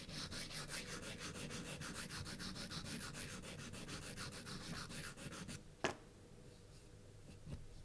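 Sanding stick with 800 grit smoothing and easing the edges of a watch case, a steady close scratchy rubbing in quick back-and-forth strokes, then a sharp tap and quieter handling near the end.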